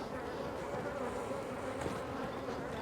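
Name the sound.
honeybees buzzing at an open hive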